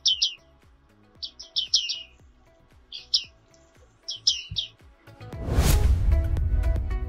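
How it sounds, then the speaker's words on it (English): A small bird resembling a bearded reedling, with black moustache markings, sings in quick bursts of high, bright chirps, repeated several times close up, before a loud rush of broadband noise takes over near the end. "This stunning little bird was first described by Carl Linnaeus in 1758 in his Systema Naturae."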